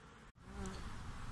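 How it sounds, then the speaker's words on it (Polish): Honeybees circle in front of a hive entrance, making a faint, close buzzing hum that carries on steadily over soft background noise. "A to chyba młoda pszczołowa tak sobie krąży przed wylotkiem."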